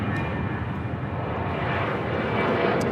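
An airplane taking off at LAX on runway 25 right, a continuous broad engine roar that stays loud and even throughout.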